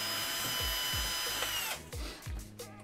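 A power screwdriver drives screws into an espresso machine housing in several short whirring bursts, then a few clunks and knocks from handling the machine; close and moderately quiet, no speech.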